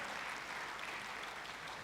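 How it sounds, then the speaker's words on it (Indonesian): A church congregation claps, a dense, even wash of applause that holds steady and fills the whole moment without any voices. "Tepuk tangannya pula yang paling meriah buat Tuhan kita."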